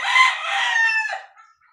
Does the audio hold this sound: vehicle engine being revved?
no